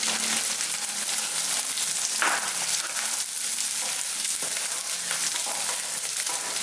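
Garlic and fenugreek sizzling in hot oil for poondu kuzhambu, a steady loud crackling fry with occasional spoon stirs scraping through, continuous and close.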